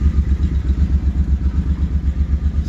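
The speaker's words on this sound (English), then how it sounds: "just warming it up to make sure it's all good" A Suzuki C50 motorcycle engine idles after an oil change, its steady, even thumping pulse close and loud throughout, with no voices.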